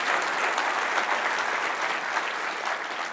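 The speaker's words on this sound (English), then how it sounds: "let's have a big round of applause for the demoers" A conference keynote audience gives sustained applause for the demo presenters, a dense wash of many hands clapping evenly throughout without speech.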